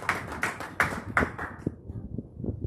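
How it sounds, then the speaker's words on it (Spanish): Rhythmic hand clapping from a church congregation, a steady run of sharp claps that thins and slows toward the end, fairly close and loud. "¿Y cuántos le dan unas palmas al Rey de Reyes hoy, hermano?"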